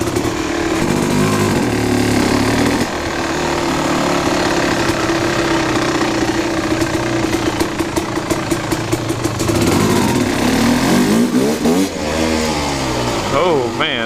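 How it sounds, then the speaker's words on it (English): Kawasaki KX 250 two-stroke dirt bike on dirt tires ridden around inside an abandoned sewing plant, a loud, buzzing engine that revs and drops continuously, echoing in the building, with someone talking over it. "you're riding a two-stroke race bike around inside an old building"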